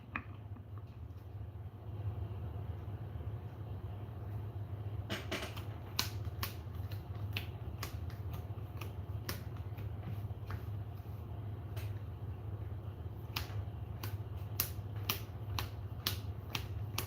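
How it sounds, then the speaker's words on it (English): Shuffling a card deck in a video game produces faint, quiet clicks and snaps in short irregular bursts over a low steady hum. "I'll shuffle my deck."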